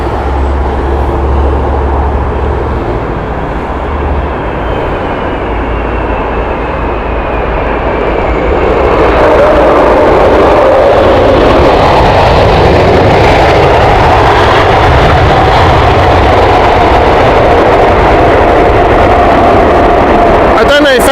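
A 2015 airliner roars loudly and steadily as it comes in fast to land at Heathrow Airport, its engine rumble swelling midway and then holding broad and close to the end.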